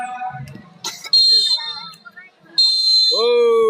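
A referee's whistle blows to end the first half of an amateur football match between Beringin Jaya and Bangun Karya, sounding as sharp, shrill blasts of about half a second over an excited commentator talking.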